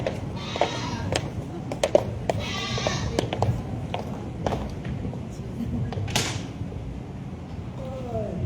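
Sheep bleat now and then in a field near Bethlehem, faint and scattered behind a speaking voice, with short clacks and knocks mixed into the background.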